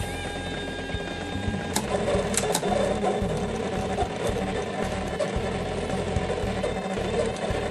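A noisy cutting plotter slices a design into paper, sending out a steady mechanical whir with rapid ratcheting clicks and the stutter of small motors, close up and without any talk.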